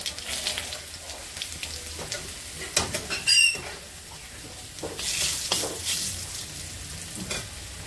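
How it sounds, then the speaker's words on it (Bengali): White cumin seeds and two bay leaves hit hot oil and sizzle steadily, with some stirring and clattering in the pan and bursts of louder crackle, close up and without talking. "তেল গরম হয়ে গিয়েছে, এখন দিয়ে দেবো জিরা, সাদা জিরা, দুটো তেজপাতা"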